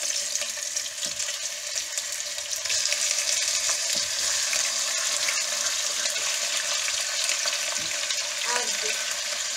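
Steady, dense sizzling of mutton searing in hot oil, continuous and close, with occasional faint clinks and scrapes of a utensil.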